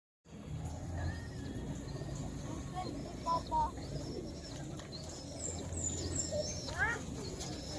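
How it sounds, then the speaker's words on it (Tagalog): Pigeons coo softly nearby amid outdoor ambience in Albay, Philippines, with a few chirps and brief wing flutters; faint voices murmur in the background. "Kalapati. May Kalapati."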